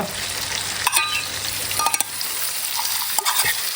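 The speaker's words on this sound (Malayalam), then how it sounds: "നമ്മുടെ ചിക്കനൊക്കെ ഇപ്പോൾ ഇതിൽ കിടന്നൊരു ഹാഫ് ഫ്രൈ ആയിട്ടുണ്ട്" Chicken half-fries in a pan for a Chicken 75 dish, giving a steady, close sizzle throughout, broken by a few sharp stirring scrapes and clinks.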